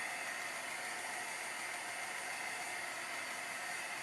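A heat tool drying ink on holiday tags blows a steady, close hiss of air, constant and even for a few seconds with no talk.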